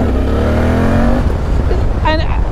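A Suzuki V-Strom 800 motorcycle pulls hard in second gear, its engine note climbing steadily in pitch for about a second before easing off, loud and close, with wind noise and a brief voice-like sound near the end.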